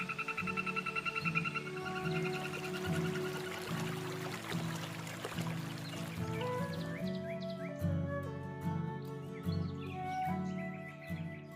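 Small poison dart frogs in the Amazon rainforest give rapid, repeated trilling calls in short bursts, layered over a busy chorus of other calls in the forest.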